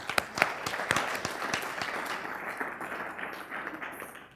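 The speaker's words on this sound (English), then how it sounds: "Give him a round of applause." An audience breaks into applause, steady clapping that starts with a few sharp claps and carries on evenly at moderate volume.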